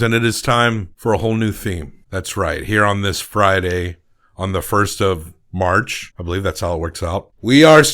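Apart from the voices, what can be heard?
No distinct noise like a dog, phone or traffic.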